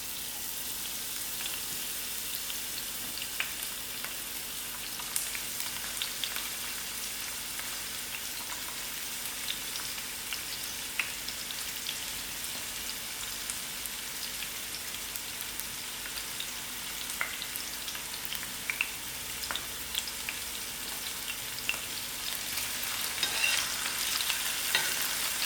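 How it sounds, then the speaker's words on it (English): Onions frying in half a cup of hot oil while Brinjal chutney is made, giving a faint, steady broadband sizzle with light stirring clicks throughout, a bit louder toward the end. "so I'm going to add in my onions to fry"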